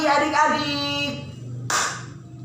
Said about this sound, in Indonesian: Tepuknya sekali.